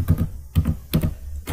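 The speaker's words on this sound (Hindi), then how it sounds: "तो मैं सबसे पहले अपना जो यूज़र नेम वो एंटर करता हूँ" A computer keyboard is typed on in short bursts of close, clacky keystrokes while a username is entered during router setup, with brief pauses between the clusters.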